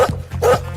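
A dog gives two short, harsh bow-wow barks about half a second apart. They are close and fairly loud, with a lower rumble of voices or noise underneath.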